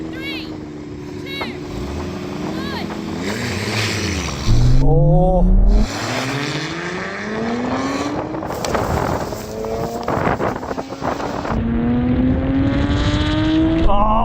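Nissan GT-R cars launching in a drag race, loud engine revs rising through repeated gear changes with wind buffeting, a short exclamation at one point and talk over the roar.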